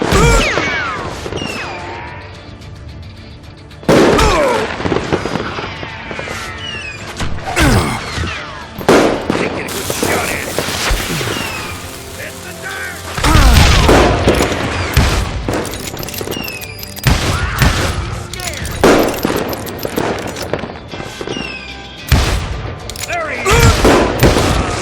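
Repeated gunshots and booming blasts from a Wild West shootout in the video game Call of Juarez: Gunslinger, loud and dense in bursts over about 25 seconds, with a voice speaking between volleys.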